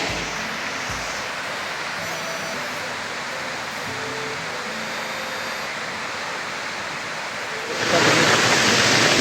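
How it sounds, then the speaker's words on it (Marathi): Dhodhani waterfall near Panvel, Maharashtra, roars in a steady, dense rush up close, swelling suddenly louder near the end. "खूप जोराने हा धबधबा वाटतो"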